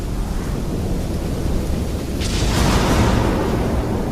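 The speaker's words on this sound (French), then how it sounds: "Puis ces éclairs et tout, c'est vraiment..." Thunder rumbling in the video game Middle-earth: Shadow of Mordor, a loud low roll with a brighter crack building around the midpoint, heard alone without voices.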